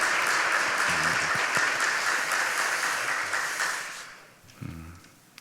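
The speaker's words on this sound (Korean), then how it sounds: "우리 박수로 격려했으면 좋겠습니다." A church congregation claps during a Sunday worship service to encourage the singers, steady applause that fades away before a brief low voice at the end.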